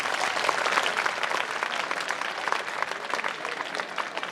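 Sustained, dense applause from a sizable crowd at a school alumni meet in Mandsaur, India, steady and loud throughout with no voices on top.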